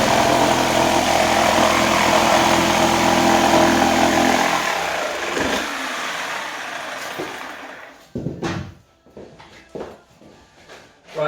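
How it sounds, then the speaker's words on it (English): A jigsaw cuts wooden floating-shelf boards to length in a workshop, a loud continuous buzzing saw run that stops around the midpoint, followed by scattered knocks and handling clatter of the cut wood. "the shelves have been cut roughly to length with a jigsaw"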